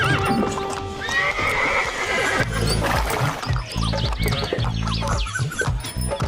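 A horse pulling a cart trots with brisk, rhythmic clip-clopping hooves up close, accompanied by a loud neighing whinny over busy background sound.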